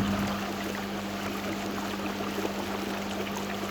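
Air forced through a Big Blue pool filter cylinder to fluidise the media, heard as a constant loud rushing churn of water and bubbling over a steady low pump hum, continuous and close.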